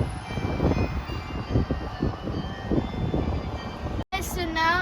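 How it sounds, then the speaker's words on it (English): A tram pulling in on a Brussels street, a steady low rumbling hum with rhythmic rolling pulses, close and fairly loud, ending in a high squeal after a brief cut. "the tram is coming now. Can you hear the sound?"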